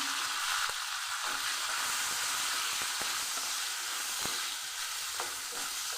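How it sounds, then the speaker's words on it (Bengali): Pointed gourd (potol) frying in leftover fish oil in a pan, with a continuous close sizzle and hiss broken by occasional stirring scrapes, and no one talking. "পটলকে মাছের তেলের মধ্যে দিয়ে দিচ্ছি"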